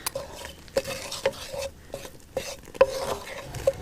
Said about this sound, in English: you can see in the pan now it's kind of starting to sizzle